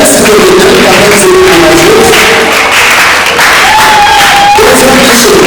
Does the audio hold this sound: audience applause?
yes